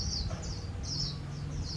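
A decoy bird at a bird trap gives short repeated high chirping calls in rhythmic bursts, moderately clear over a low outdoor background rumble.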